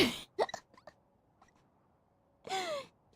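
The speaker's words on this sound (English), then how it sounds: "I dedicate you my hiccups." A person hiccups in a quiet room: a few short, sharp gasping hiccups near the start, then a longer voiced, breathy catch a couple of seconds later, fairly close and distinct.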